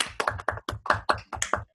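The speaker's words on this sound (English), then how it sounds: "let's briefly unmute ourselves and applaud for Samir." Audience applause at the close of an online academic talk, a brief burst of hand claps from people unmuting on a video call, sounding as a quick series of separate near taps rather than a dense crowd.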